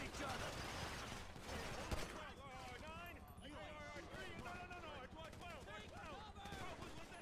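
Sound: rapid gunfire in the video game GTA V

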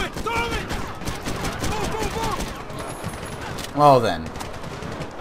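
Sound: machine gun firing in video game Medal of Honor

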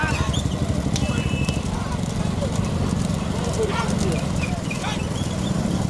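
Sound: horse hooves clip-clopping during a horse cart race

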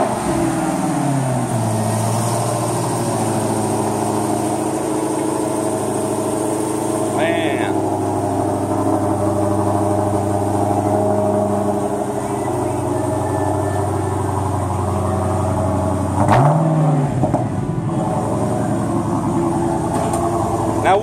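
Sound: Dodge Hellcat car engine running and revving

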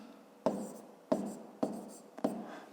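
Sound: writing numbers by hand

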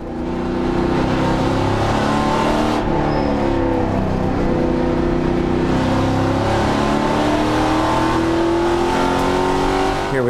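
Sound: race car accelerating around CTMP track

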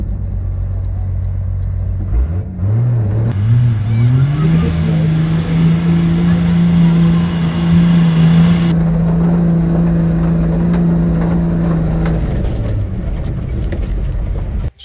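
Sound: truck engine revving at mud drags

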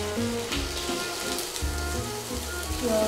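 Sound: diced onions sizzling in hot oil in a pot

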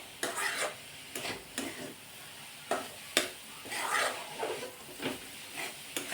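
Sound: stirring jaggery into coconut modak filling in a pan

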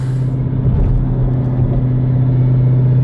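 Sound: 1000 hp Jeep Trackhawk engine rumbling while cruising

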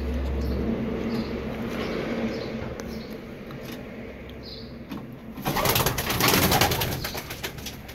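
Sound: pigeons cooing

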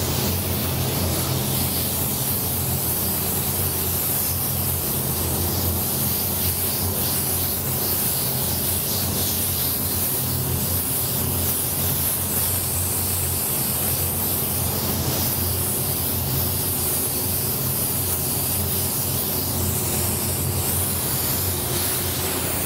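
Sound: spray gun spraying first paint coat on powder coated wheels

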